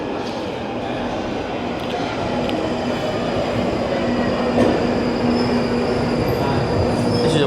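A London Underground train sits at and moves along the southbound platform with a loud, steady rumble, wheel squeal and a sustained tonal hum, continuous and close throughout.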